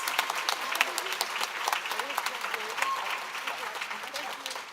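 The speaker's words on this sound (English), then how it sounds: "Please give a round of applause to all of the Writing Academy graduates" A crowd at an awards ceremony applauds the Writing Academy graduates with steady, fairly faint clapping lasting several seconds and a few voices mixed in.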